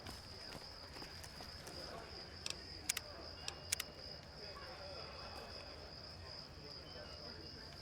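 Crickets chirp in a steady, faint high drone through a quiet night, with a few sharp clicks midway.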